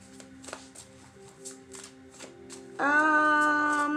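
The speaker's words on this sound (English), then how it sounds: "Now, I'm going to go ahead and give these a shuffle, right? These are the message cards." Soft, irregular papery flicks and riffling of tarot cards being shuffled close by, followed by a steady sustained tonal hum that rises under the end.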